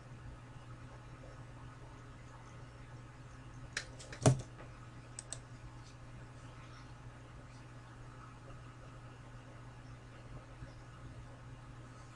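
A few soft, isolated keystrokes on a computer keyboard, ending with a slightly louder press of the enter key, in a quiet room with a steady low hum.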